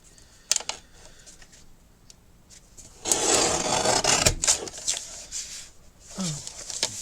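A paper cutter slices through a sheet while trimming down a matchbook recipe album page, a rough scraping swipe lasting just over a second, framed by scattered clicks and handling sounds.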